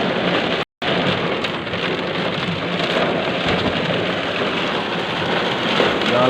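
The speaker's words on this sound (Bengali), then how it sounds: "এইখানে একটু বৃষ্টি উপভোগ করছি" Heavy rain pours down steadily at a safari park, a loud, dense and unbroken patter drumming close by with no voices.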